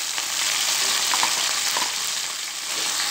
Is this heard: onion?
yes